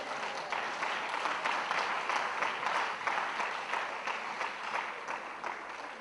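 A church congregation applauds the Lord during a French-language sermon, a dense, steady wash of clapping that holds for about six seconds at an even, moderately loud level, with no speech over it.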